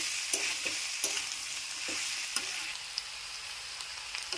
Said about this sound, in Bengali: তার জন্য 2-3 মিনিট ভালো করে পোস্তটাকে কষিয়ে নিচ্ছি